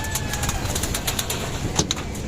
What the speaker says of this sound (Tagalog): ayan na yung kalapati oh